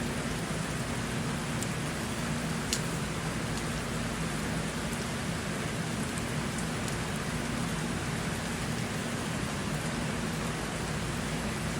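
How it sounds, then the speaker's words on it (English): Rain falls on the roof of a house in Ottawa, Canada, making a steady, even hiss of dense drops that continues unbroken throughout, with a few sharper drip ticks. "check the drops of rain. How fast are they on the roof of the house?"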